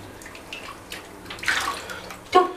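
Water splashes and drips in a small tub while a baby has a first bath, soft irregular sloshes close by with two louder splashes near the end, and no talking.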